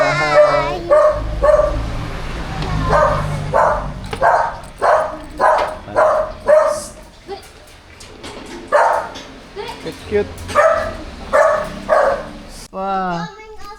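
A small dog at a home yips and barks repeatedly in quick, high bursts, close and loud, mixed with whimpering, while people talk around it.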